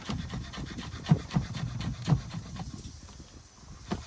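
A knife finely chops lemon zest on a wooden board, giving soft, quick rubbing taps in an uneven rhythm, close and fairly quiet.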